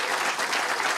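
Dense applause fills the Canadian House of Commons, a steady, loud wash of many hands clapping at once, with no voices rising above it.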